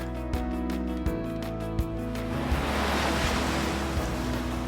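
Waves breaking gently in a calm bay at Cirebon on the Java coast, a steady wash of surf with soft wind noise; low rolling water sounds build into a continuous hiss, no voices.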